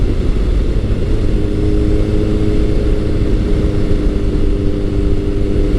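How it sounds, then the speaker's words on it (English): A Kawasaki ZRX1100 motorcycle engine drones loud and steady at speed, with a constant low rumble and rushing wind, no talking. "The feel of this power plant and the noise that it makes"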